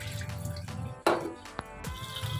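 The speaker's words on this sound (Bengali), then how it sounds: "আর এখানে দেখো ডাল ধুয়ে নিচ্ছি" Soaked lentils being washed under running water in a kitchen, with a steady trickle and splash, a louder slosh midway and a few scattered drips.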